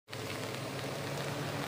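Steady rain pours down at a farm site in Liwayway, a dense, even hiss of drops that starts abruptly and holds constant throughout, with no voices.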